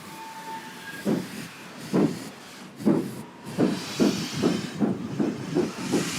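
The Coronation Scot steam locomotive runs with a steady hiss of steam, while heavy rhythmic chuffs or beats build and quicken over a constant rushing background, fairly loud and without voices.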